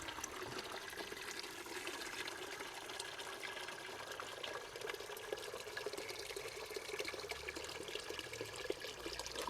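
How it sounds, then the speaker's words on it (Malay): A faint, continuous trickle of water is poured into a container, a repurposed plastic soap tub used for growing vegetables. The splashing holds steady and even throughout, with nobody talking. "Masuk ke air dalam bekas ni."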